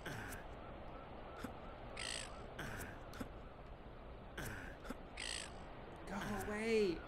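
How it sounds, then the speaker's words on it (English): A crow caws repeatedly in the Getting Over It video game, harsh calls recurring every second or so over steady background noise, with a person's voice breaking in near the end. "That bird will just never give up."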